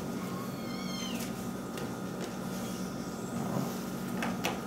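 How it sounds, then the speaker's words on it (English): Kittens meow faintly in the background, a few short high cries and a thin rising call over a steady low room hum, with no talk. "Please enjoy the dulcet tones of kittens in the background."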